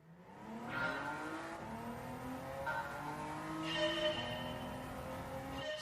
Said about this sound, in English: on the track we have the car driving around High Speed Ring reversed here